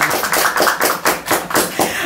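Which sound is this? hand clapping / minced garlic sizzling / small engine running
hand clapping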